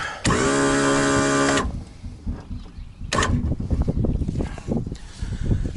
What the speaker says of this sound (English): First thing you want to do is get your motor level. So I'm going to raise it up.